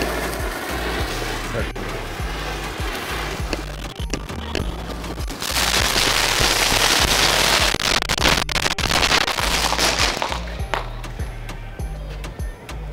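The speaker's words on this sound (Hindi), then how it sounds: "पहले स्पार्कल है फिर बाद में पटाखे क्रैकलिंग भी आई है" An elephant-shaped Diwali firework sparkles with a dense, steady fizzing hiss, then turns louder and denser with crackling firecracker pops, all close by and running continuously.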